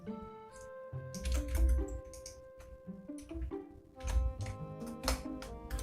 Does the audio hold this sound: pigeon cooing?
no